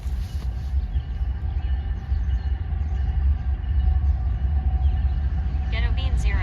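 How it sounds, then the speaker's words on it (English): A train passing near a Wisconsin fishing spot gives a loud, steady low rumble that holds throughout and swells slightly toward the end. "There's another train coming."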